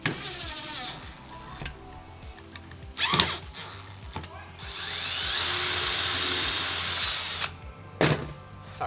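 A power drill drives longer screws into a wooden box, with short whirring bursts and one long sustained run of the motor, close and fairly loud with clicks between bursts.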